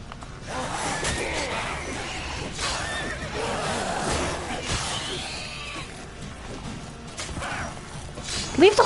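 A horse whinnies and snorts amid clattering, whooshing sounds in the video game The Witcher 3, with a sharp burst near the end; no one speaks.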